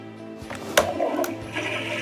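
Toy plastic toilet from the Toilet Trouble board game flushing, a short whirring mechanical flush with a couple of clicks, close and brief, with no talk.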